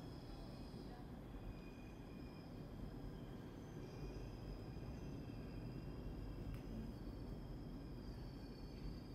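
A constant low rumble and rushing hum of a Jakarta MRT metro train in motion, heard from inside, with faint high squeals drifting in and out.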